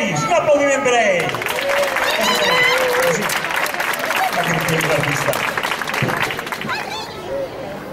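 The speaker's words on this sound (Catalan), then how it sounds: "Joan Peris, un aplaudiment per a ell." An audience at a Catalan children's book event with a performer and a dragon character applauds, steady loud clapping mixed with cheering and crowd chatter that continues throughout and fades slightly at the end.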